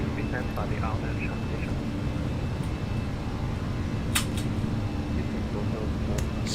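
Cabin of an Airbus A319 just after takeoff from Hong Kong, filled with a constant loud roar of engines and airflow, broken by a few faint clicks.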